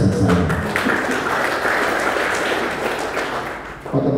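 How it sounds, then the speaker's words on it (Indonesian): A church congregation applauds steadily, with loud, dense clapping that fills the room at an even level and then thins out toward the end. "Kok tepuk tangannya cuma segitu?"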